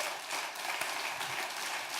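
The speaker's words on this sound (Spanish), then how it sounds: "Denle ese fuerte aplauso al Rey." A church congregation applauds, a sustained, even wash of many hands clapping with no pauses, moderately loud and without voices.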